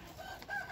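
Gà lòi chickens from the Mekong Delta region crow on a free-range farm in the evening, a short, faint, drawn-out call with a thin rising tone.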